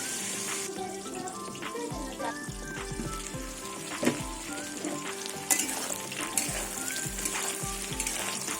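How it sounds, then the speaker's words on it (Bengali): Pointed gourd (potol) frying in a pan over lowered gas heat, a steady close sizzle with clattering stirs and scrapes of a utensil running throughout, no talk. "গ্যাসের আগুনটা কমিয়ে দেবো কমিয়ে দিয়ে পটলটাকে লাল লাল করে ভেজে নেব"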